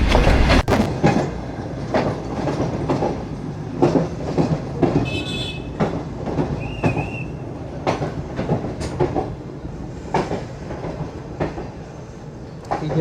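Shalimar Express train pulling into Sangla Hill junction and coming to a stop, with loud rolling wheel clatter, rail clicks and a brief high brake squeal, steady rumble throughout.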